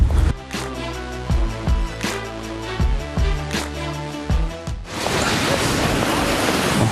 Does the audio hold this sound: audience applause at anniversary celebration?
no